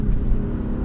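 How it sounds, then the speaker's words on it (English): A BMW E36 M3 with high mileage pulls away hard with wheel spin, a loud close engine roar and deep rumbling drone that fills the short burst without any talking. "I didn't expect as much wheel spin as we just got, dude."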